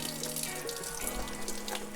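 Tap water runs steadily into a kitchen sink as fresh porcini mushrooms are rinsed and rubbed clean beneath the stream, a close, even splashing hiss.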